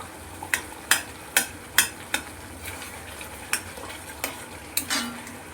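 Thick jaggery pickle mixture for an Onam sadya bubbles in a pan while a spoon scrapes through it in quick, regular strokes, each sharp scrape standing out close over the low simmer.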